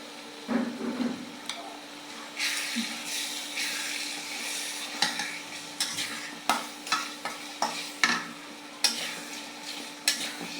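Chicken curry spice paste frying and being stirred in a pan, with steady sizzling and hiss broken by repeated sharp scrapes and clacks of a utensil, close and loud, with no talking.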